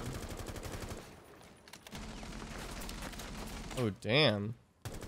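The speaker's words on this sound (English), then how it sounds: "my controller just keeps shooting" Automatic gunfire in a controller-played shooter video game, rapid bursts of shots in the first half, then a quieter stretch before a person's voice exclaims near the end.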